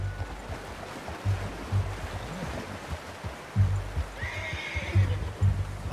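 A horse whinnies in Red Dead Redemption 2, a rising, bright call near the end, with soft hoof clops and a watery ambient bed underneath and no talk.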